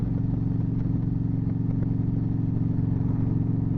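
A 2012 Victory Cross Country motorcycle cruises along with a steady, low, rhythmic engine thrum and wind noise, sounding constant and moderately loud throughout, with no talking.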